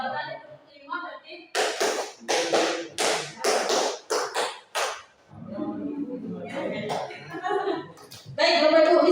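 Group hand clapping in a 'tepuk 5' clap exercise at a school meeting: a run of loud synchronized claps in rhythmic pattern, with talk before and after the clapping.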